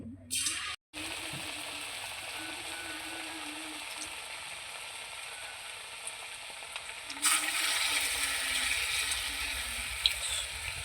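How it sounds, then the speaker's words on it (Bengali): Egg chops fry in hot oil in a wok, a soft steady sizzle after a brief cut near the start, growing louder and brighter partway through. "এবার আমি ডিমের চপটা ভেজে নেব।"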